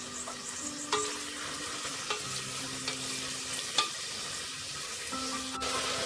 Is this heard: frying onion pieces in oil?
yes